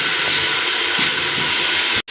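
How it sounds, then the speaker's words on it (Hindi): Beef frying in hot oil in a pot for korma, a steady loud sizzling hiss that continues evenly and cuts out abruptly near the end. "और बीफ को भी हमने 3 से 4 मिनट के लिए अच्छी तरह से भूनना है, ताकि ऑयल और गोश्त बिल्कुल अलग हो जाएं।"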